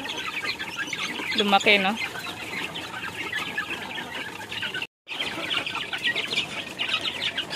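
Rhode Island chickens in a backyard native chicken farm cluck and chatter at feeding time, with a near rooster-like call early on over a dense flock murmur. A person speaks briefly at the start.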